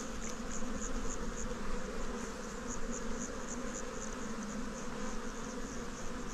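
Honeybees swarm and drone steadily at an open beehive while frames of brood are handled, a dense continuous hum holding level throughout with no voices.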